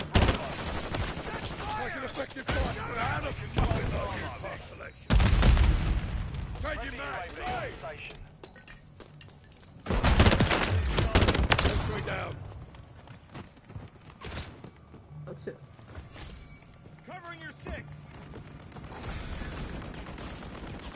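Gunfire in Call of Duty: Modern Warfare 3, bursts of rapid shots and a few heavier blasts mixed with game mechanisms and footsteps, running under excited talking throughout.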